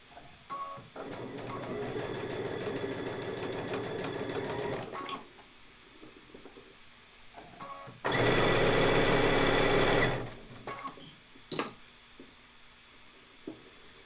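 A sewing machine stitches continuous bias binding in two close, loud bursts of rapid mechanical whirring, one about four seconds and a brisker one about two seconds, with quiet handling clicks in between.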